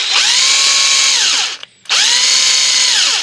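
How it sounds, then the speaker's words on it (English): A power drill boring out a broken exhaust bolt on a 1974 Volvo 164e redblock whines loudly and steadily, cuts out briefly midway, then spins back up at full speed. "So we're going to try to drill it from the top down, see if we can get a hold of it."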